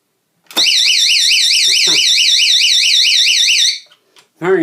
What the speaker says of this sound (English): let's turn on alarm one more time, and I'll pull the doorknob